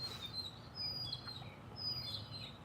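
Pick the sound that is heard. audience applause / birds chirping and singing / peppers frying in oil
birds chirping and singing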